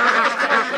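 Ducks quack loudly and close by in a crowd in Dong Hoi, Vietnam, a dense burst of overlapping nasal calls.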